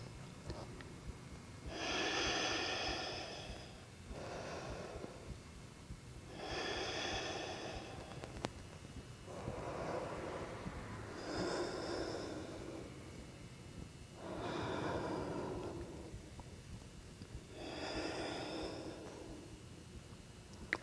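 Six slow, deep yoga breaths drawn in and out through the nose, each a soft airy rush lasting about two seconds with short pauses between, close and quiet.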